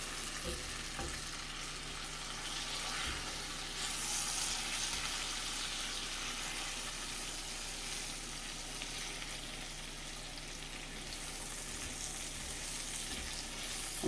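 Onions frying in a pan, a steady broadband sizzle that continues without a break for the whole stretch, close and moderately loud, with a faint low hum underneath and no voices.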